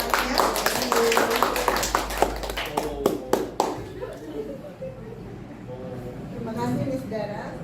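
Scattered hand clapping and tapping from a small group rattles along for a few seconds, loosely rhythmic and fairly close, then fades as people go on talking.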